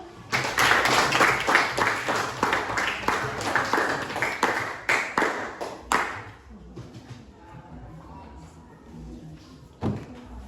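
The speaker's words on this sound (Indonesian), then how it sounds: "Oke, baik, tepuk tangan dulu." Students in a junior high school classroom clap together in a loud burst of rapid, overlapping claps lasting several seconds. The applause then stops abruptly, leaving quiet room noise and one last stray clap near the end.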